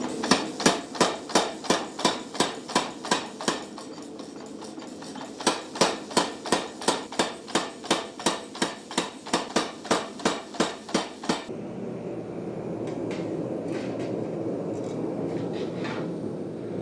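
A power hammer fitted with flat dies forges old rail spikes, pounding out fast, evenly spaced metallic blows in two long bursts. A quieter stretch of shop noise follows, with a few scattered clanks.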